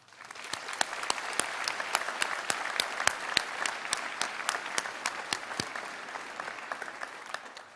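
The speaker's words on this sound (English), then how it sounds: "Please join me in a round of applause for their efforts and support." A graduation ceremony audience applauds steadily, a dense mid-distance wash of many hands with a few sharp, louder claps standing out near the front.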